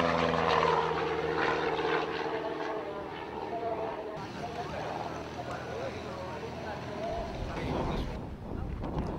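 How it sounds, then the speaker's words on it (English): An aerobatic side-by-side two-seat plane with a 200 horsepower Lycoming IO360 flat-four and constant-speed two-bladed Hartzell propeller drones past at an airshow, its engine tone shifting, with commentary talk over it. "aerobatic aircraft with side-by-side seating, powered by a 200 horsepower Lycoming IO360 flat 4"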